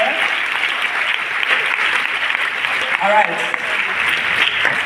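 A crowd at a public address in Warri applauds the youth with steady, dense clapping throughout, while a voice briefly speaks over it.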